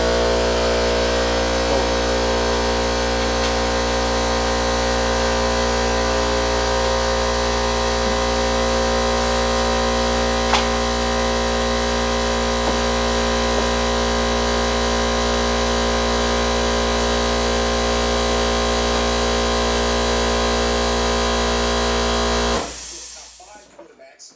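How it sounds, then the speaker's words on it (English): An air compressor runs with a loud, steady mechanical hum and hiss that holds constant, then cuts off abruptly near the end. "The compressor's going to kick on here in a second"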